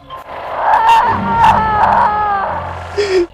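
A woman's repeated screams or wails from a played audio recording, a series of strained, pitched cries with a rougher cry at the end, fairly loud and somewhat muffled.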